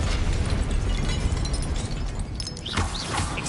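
A burst of fire from the Incendio spell in the game Hogwarts Legacy, a loud, dense roar that fills the moment and then breaks into crackling, with whooshing sweeps near the end.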